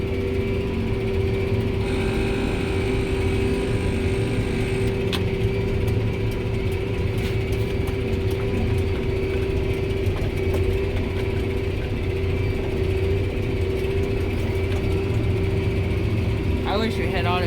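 A tractor engine runs steadily in a cornfield, a constant loud mechanical drone with a fixed tonal hum, a few faint clicks and rattles over it, and no break from start to end.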